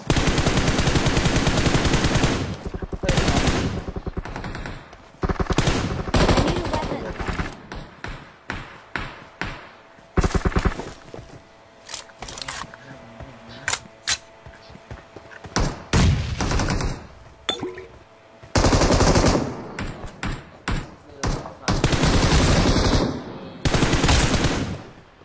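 Rapid automatic gunfire in the video game Essozip, loud bursts of shots repeating in clusters with brief pauses throughout, close and dominant, with no talk over it.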